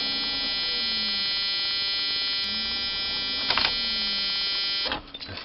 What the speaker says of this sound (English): that buzzer drives me bonkers